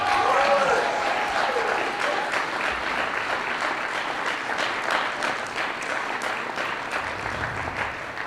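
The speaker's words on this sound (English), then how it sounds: "one last round of applause for our contestants this evening" An audience at a Poetry Out Loud recitation contest gives a final round of applause for the contestants, with sustained, even clapping from a mid-sized crowd filling the room and a few individual claps standing out.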